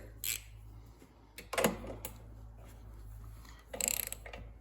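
Socket wrench on a 13/16 socket seating the spark plug of a Briggs & Stratton 550EX lawnmower engine, giving a few short, close metallic ratcheting clicks in separate bursts with quiet gaps between.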